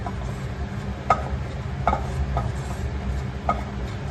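A spoon scrapes and taps against a pan while flour is stirred into melted butter for white sauce pasta, with a few distinct clinks over a low steady background hum.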